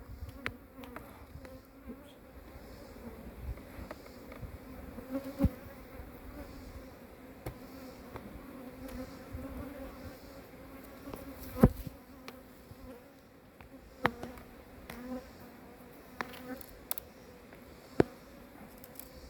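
Honeybees buzz around a beehive during beekeeping, a soft, continuous hum of many insects close by, with occasional light clicks and taps over the droning.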